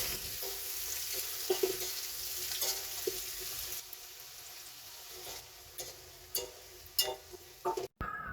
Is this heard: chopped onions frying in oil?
yes